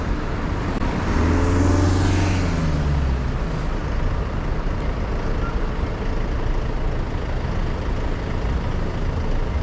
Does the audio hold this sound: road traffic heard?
yes